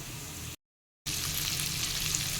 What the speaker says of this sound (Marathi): त्याच्यामध्ये मी बारीक चिरलेली लसूण आणि आलं घातलेलं आहे ते एखादा मिनटं आपण परतून घेऊया